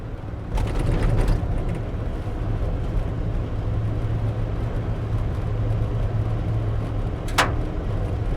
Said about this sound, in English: I hit a little stretch of gravel road here